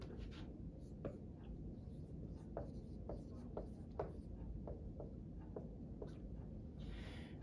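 Pen writing on paper, a series of short scratchy strokes and dots at an irregular pace, close and quiet over a steady low room hum.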